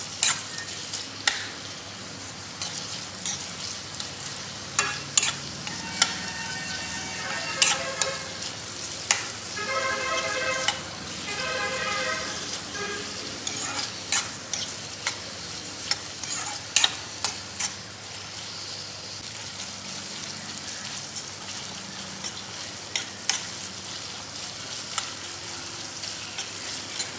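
Onions fry for chicken biryani, a constant sizzle under repeated sharp clicks and scrapes of a spoon stirring against the pot, with a busier stretch of stirring partway through and no speech.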